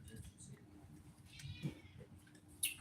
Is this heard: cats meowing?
yes